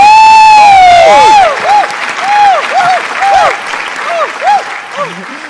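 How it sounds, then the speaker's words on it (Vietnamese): An audience of a live Vietnamese comedy sketch performance bursts into loud, sustained clapping and cheering. The applause runs through the clip beneath a whistle-like tone at the start and then scattered high-pitched bleeps and chirps over the crowd. "một tràng pháo tay nữa cho tiết mục đặc biệt ngày hôm nay ạ"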